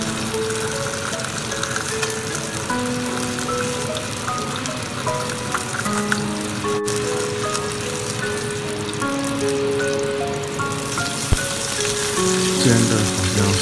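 Crucian carp frying in a pan for soup, a continuous dense sizzle and crackle held steady and close throughout, with faint tonal sounds in the background.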